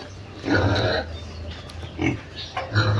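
Piglets and pigs grunt in low, rough bursts, a few close snorts spread across a few seconds with quieter farmyard noise between them.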